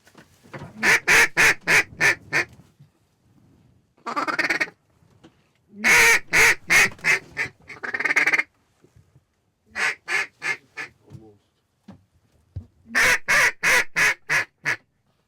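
Repeated loud honking calls from geese in several bursts, with brief quiet gaps between volleys; the birds sound close.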